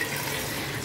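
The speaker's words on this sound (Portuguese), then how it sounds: "E vamos colocar água até cobrir." Water pours steadily into a pot of beans cooked with ready-made tomato sauce, a brief, continuous splashing rush heard close up.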